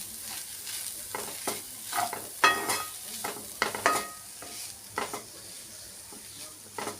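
Minced mutton sizzles in a pan while a spoon scrapes and stirs it in a steady rhythm of repeated strokes, close up.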